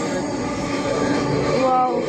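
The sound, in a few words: metro rail train running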